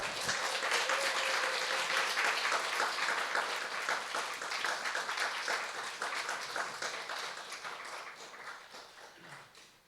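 A church congregation at Grace Gospel Church gives sustained, warm applause to welcome the pastor, the thick clapping going on for several seconds and then slowly tapering off.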